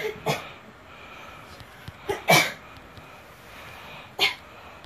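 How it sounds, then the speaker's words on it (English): Coughing fits from a woman playing the online game Planes.io, three short harsh bursts spaced a couple of seconds apart, close and moderately loud over a quiet room. "coughing up a storm"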